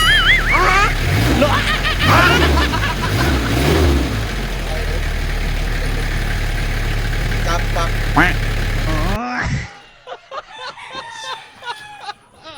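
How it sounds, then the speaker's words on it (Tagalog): A reconditioned starter on a Kia Bongo 3.0 cranks the engine with a loud, heavy rumble, and someone talks over it. The noise cuts out abruptly near the end, leaving quieter scattered sounds. "parang lumindol guys sa lakas ng starter guys"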